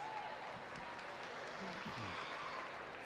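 Audience applause in a livestock show arena at a county fair, a steady broadband wash of clapping filling the space for a few seconds, with some voices audible underneath.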